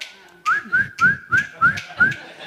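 Six short rising whistles in a steady rhythm, each a quick upward-sliding note, close and clear against a quiet background.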